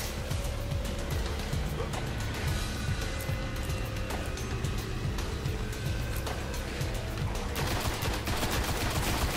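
Rapid bursts of gunfire from a weapon in the video game Destiny crackle repeatedly over a rumbling, busy game backdrop, shots coming in quick volleys at moderate loudness with no talk.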